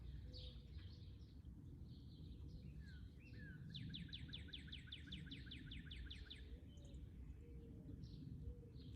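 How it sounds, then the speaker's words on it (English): Springtime birdsong from cardinals, robins, mourning doves and orioles, faint and somewhat distant: scattered chirps and whistles, then a rapid run of repeated bright notes, over a soft, steady outdoor rumble. "Hopefully you can enjoy the sounds of the birds. We got cardinals, robins, mourning doves, orioles."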